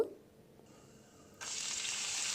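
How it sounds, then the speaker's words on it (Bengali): Whole cumin seeds and dried red chillies hit hot oil and break into a bright, steady sizzle that swells partway through and stays constant, close and quiet, with no voices. "গোটা জিরেটা দিয়ে একটু ভেজে নেব তারপরে দুটো শুকনো লঙ্কা ফোড়নে দিলাম এটাকে একটু ভেজে নেব"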